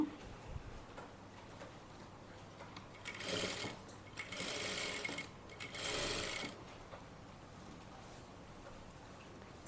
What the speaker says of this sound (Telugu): ఈ ఫ్రిల్స్ ఎంత అయితే ఉందో అంతా కూడా ఇలా డబుల్ స్టిచ్ వేసేస్తున్నాను